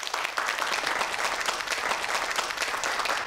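A TV studio audience applauds to welcome a lecturer onto a Korean math talk show, giving steady, dense clapping from start to finish.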